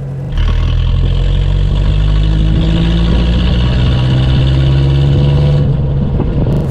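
Engine of a 1940 Rosengart LR539 Supertraction car starts up after a brief quiet moment, then runs at a steady, loud, close idle with mechanical clatter and a deep hum, fading slightly near the end.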